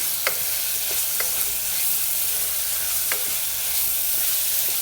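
Ginger garlic paste sautéing in a pan on medium heat for a green chilli mutton curry, a steady soft sizzle with a few sharp scraping clicks of stirring, close and alone.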